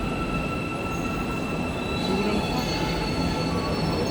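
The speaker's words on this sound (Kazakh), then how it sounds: "Мынау келген біздің пойыз." An Istanbul M2 metro train pulls into an underground station, its wheels squealing in a sustained high whine over a steady rolling rumble, loud and close with no talk.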